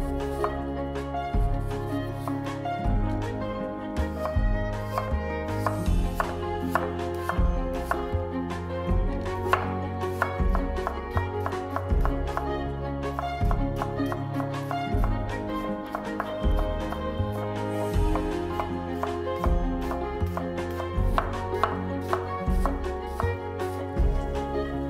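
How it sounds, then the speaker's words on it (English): A knife slicing an apple into thin matchsticks on a cutting board, with rapid steady chopping taps throughout, close and continuous, with light music in the background and no talking. "Thinly slice 1 apple into thin matchsticks."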